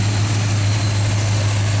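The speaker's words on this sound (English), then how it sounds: "So the engine runs absolutely flawlessly." A 1970 Oldsmobile 442 engine idles steadily with a low, even drone throughout, a constant rumble with no changes in pitch or speed.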